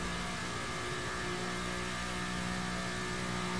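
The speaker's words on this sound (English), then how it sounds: "I hear the F1 cars in the racetrack over there." Formula 1 race cars on a nearby racetrack make a steady, distant engine whine and drone that holds throughout without breaks, with no talking.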